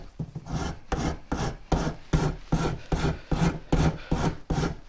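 Rhythmic scraping as a rasp files walnut wood for a dovetail box, about a dozen close, even strokes in steady succession, each a short raspy rub, heard alone without talk.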